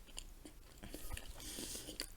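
Close, crunchy chewing of muesli with bits of apple and apricot from a British military ration pack, uneven bites and grinding over about two seconds with no talking.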